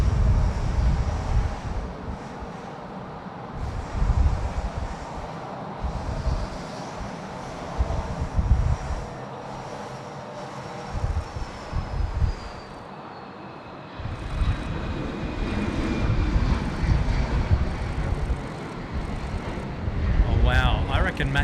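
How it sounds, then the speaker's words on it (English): An Embraer E190 jet takes off at Sydney Airport, its engine roar building from a distant rumble to a louder swell with wind noise on the microphone, while people talk over it. "The E190's now got its clearance for takeoff. He's rolling after a short delay, finally able to get away."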